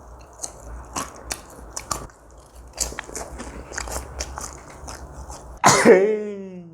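Thin, crisp Pizza Hut Mega Crunch pizza crust crunched in close bites, several sharp brittle cracks and chewing, followed near the end by a short burst of throat-clearing or coughing.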